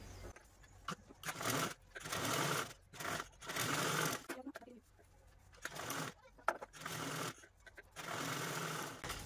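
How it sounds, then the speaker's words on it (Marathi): An electric sewing machine stitches a zipper onto a fabric bag in bursts of fast, even whirring broken by short pauses, close by, with brief speech between runs. "रनरवाली साईड खालच्या साईडने ठेवून अशा पद्धतीने आपण ही झिप स्टिच करून घेऊ"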